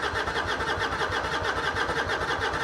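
Carbureted 2005 Harley-Davidson Heritage Classic motorcycle engine cranking and catching, a steady loud, pulsing mechanical chug close to the microphone throughout.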